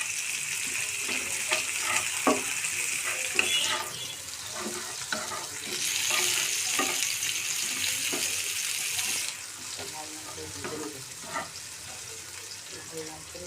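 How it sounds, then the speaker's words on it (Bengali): Onion and garlic frying in a pan: a steady bright sizzle with repeated light stirring taps and scrapes, swelling louder in the middle before easing back. "পেঁয়াজ আর রসুনকে লাল লাল করে ভেজে নেবেন প্রথমে"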